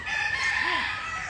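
A Sweater gamefowl rooster crows once in a short rising-and-falling call, fairly close, over a steady background hiss on a game farm.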